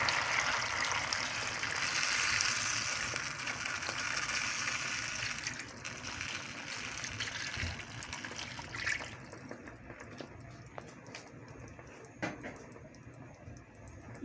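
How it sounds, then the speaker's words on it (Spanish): Vinegar pours into a pot for pickled jalapeños, a soft continuous trickling stream that fades after several seconds, followed by faint light ticks and clinks, fairly quiet with no talking. "Miren, ya ponemos el vinagre."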